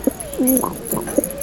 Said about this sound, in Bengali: তাহলে পায়রাদেরকে ছেড়ে একবার দেখিয়ে দিই